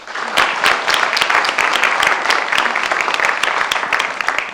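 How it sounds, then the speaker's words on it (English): An audience applauds after a university talk on brain health and human flourishing, a dense, steady clapping that stays loud and unbroken throughout, with no speech over it. "let's give a bigger round of applause"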